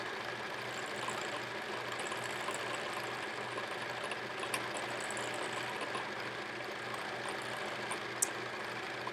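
A sewing machine runs steadily for free motion quilting, its needle hammering in a fast, even, continuous rhythm under a constant mechanical whir, fairly close and unbroken throughout.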